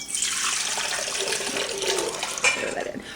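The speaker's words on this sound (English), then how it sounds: "So start off with 3 cups of lukewarm water" Three cups of lukewarm water poured for artisan bread dough, a steady close splashing stream that runs for about three seconds and ends with a short final spatter.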